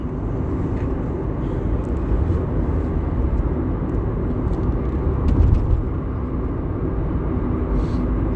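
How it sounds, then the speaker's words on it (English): Steady road rumble from inside a moving car, a continuous low drone of engine and tyres on the road with no talking. "I'm just driving around right now"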